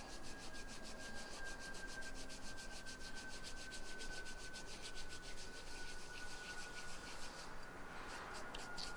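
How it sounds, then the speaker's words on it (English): Dried lettuce seed heads are ground by hand to free the seeds, giving a steady dry rubbing and scratching that runs continuously, close and fairly quiet, with no voices. "I'm going to grind this a little bit more because there's still some larger seed heads in here."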